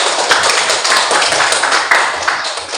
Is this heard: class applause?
yes